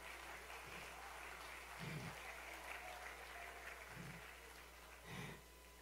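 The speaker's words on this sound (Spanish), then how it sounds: "Aplauda al Señor." A church congregation applauds during a sermon, a soft, steady wash of clapping heard faintly over a low background hum, with a few brief low thumps near the microphone.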